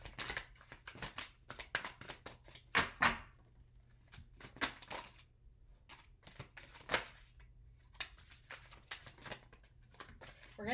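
Tarot cards are shuffled by hand in quick riffling bursts separated by short pauses, close and fairly soft, with no talking.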